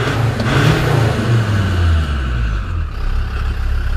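A chipped Land Rover Defender TD5 diesel engine runs loud and close, revving up and settling back into a steady rumbling idle.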